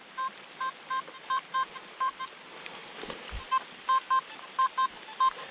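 A metal detector on a lake bottom beeping in regular short pulses, a steady rhythmic series of tones with a brief pause and a dull thump in the middle.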